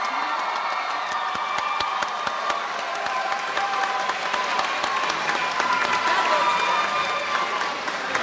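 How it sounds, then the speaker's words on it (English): A large crowd at a Class of 2024 graduation ceremony claps and cheers steadily, the applause broad and sustained with scattered shouts mixed in. "Clap now."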